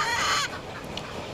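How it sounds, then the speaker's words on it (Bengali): Four-month-old hens penned together in a separate enclosure give a loud, close burst of clucking at the start, then quieter clucks and rustling follow. "এখানে দেখা যাচ্ছে যে একটি আলাদা জায়গার ভিতরে 4টা মুরগি রাখা আছে।"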